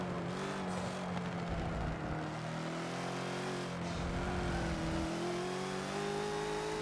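A Bentley GT3 race car engine bogs down on the Catalunya GP track in Forza, a steady droning engine note that sags and strains in pitch without clearing, heard alone with no talk.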